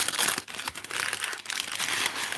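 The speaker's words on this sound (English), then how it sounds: "rip the bag, Andy, rip the bag" Plastic bag around a Bake Shack steak and onion pie being ripped and crinkled open, a continuous close, busy crackle of film handled by hand for a couple of seconds.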